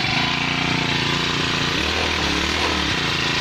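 A two-stroke gasoline generator, a Genset 4800, runs at a steady, loud buzzing drone, its pitch dipping and lowering partway through as the engine load shifts.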